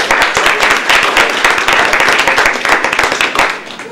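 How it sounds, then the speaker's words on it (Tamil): A crowd applauds, dense clapping from many hands that stays loud then eases slightly toward the end. "எங்கே அவருக்கு உங்களுடைய கரகோஷம்."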